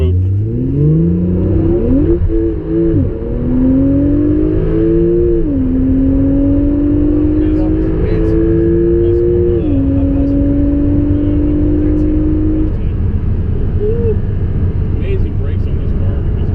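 A Porsche 911 Turbo S accelerates hard in sport mode, its engine rising in pitch through several quick gear changes, loud and continuous inside the cabin, with people talking over it.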